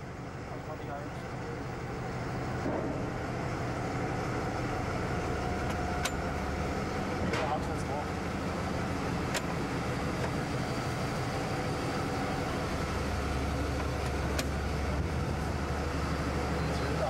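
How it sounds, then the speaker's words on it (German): A VT 18.16 diesel express railcar rolls along with a continuous, heavy rumble and occasional sharp clicks, while a voice talks over it. "Zum letzten Mal rollt ein VT 1816 auf die Warnemünde."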